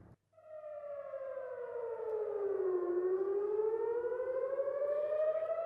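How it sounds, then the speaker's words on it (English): A civil defense air raid siren sounds a red alert in Israel, its wail falling then rising in pitch as a single long, steady tone, distant yet clear against a quiet background with no talk. "setting off red alert sirens near Israel's top-secret nuclear reactor in Dimona"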